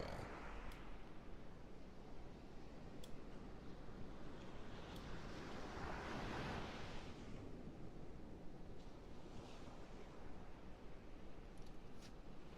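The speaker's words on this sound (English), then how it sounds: "ocean sound that you hear myself using my own audio equipment and going to the beach and recording it" Ocean waves and wind recorded at a beach, a faint, continuous wash of surf and breeze with a gentle swell in the middle and no talking.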